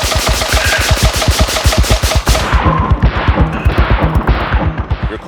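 Automatic rifles fire rapid bursts, a dense string of sharp, loud shots in quick rhythm, followed by slower, more spaced rounds, heard close with no talk.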